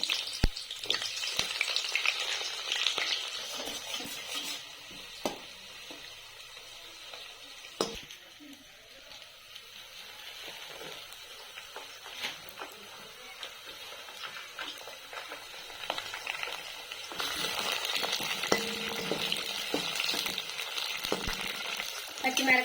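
Chopped onions sizzle and fry in hot oil in a home kitchen while soya chunk biryani is being made, with a steady crackling hiss, occasional stirring scrapes and a louder burst of frying toward the end.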